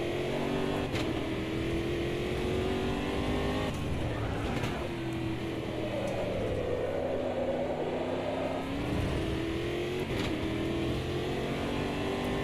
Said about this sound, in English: things vibrating around the car, metal parts as I go over the rumble strips